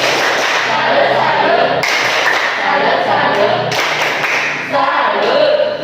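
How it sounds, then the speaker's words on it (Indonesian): A class of pupils performs a 'tepuk salut' cheer, dense rhythmic clapping with chanting voices in several loud bursts separated by brief pauses, close and filling the room. "Kita tepuk salut dulu ya."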